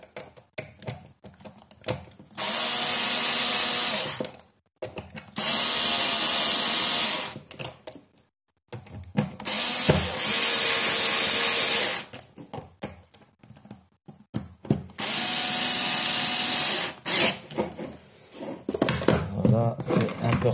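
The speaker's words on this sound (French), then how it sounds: "J'ai pris le tournevis électrique." Electric screwdriver driving screws into an LED projector, four separate loud whirring bursts of a few seconds each, close by, with soft handling clicks and someone speaking French in the gaps between.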